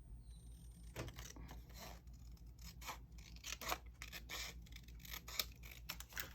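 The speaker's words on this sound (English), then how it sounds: "I like to use these scissors to fussy cut." Scissors snip and rasp through paper while fussy cutting out a picture for a junk journal house, a run of quiet close crisp cuts and rustles with no talking.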